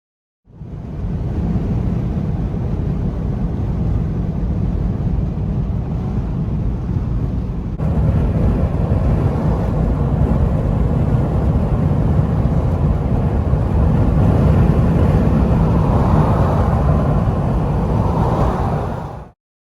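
Jeep JKU Rubicon engine rumbling steadily at close range as it rolls up onto a trailer, a continuous low drone that picks up a louder, rougher tone partway through, with no talking.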